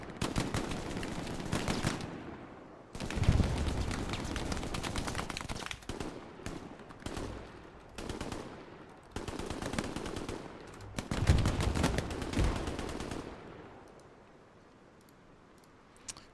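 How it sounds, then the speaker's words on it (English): Tank gunner firing ricocheting rounds in a video game: rapid, loud bursts of automatic gunfire in several long strings separated by short pauses, ending in quieter ambience. "Ricocheting rounds as a tank gunner"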